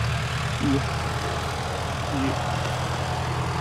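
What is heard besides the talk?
Sonalika Tiger 65 HP tractor running Shaktiman rotavator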